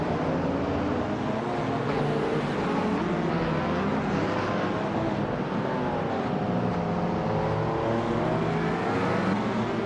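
A Ford Sierra RS500 Cosworth race car in a racing video game drones along at steady speed, a continuous loud engine note with slowly shifting pitch and gentle revving, with no talking.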